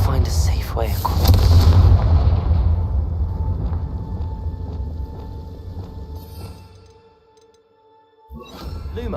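Confringo blasting curse cast in the Hogwarts Legacy video game, a heavy booming explosion with a deep rumbling tail that fades almost to silence before fresh noise returns.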